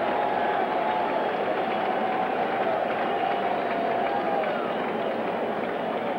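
A large crowd of about 50,000 at a 1985 Mets–Cardinals baseball game applauds batter Howard Johnson, a dense, continuous roar of clapping and cheering that stays steady throughout.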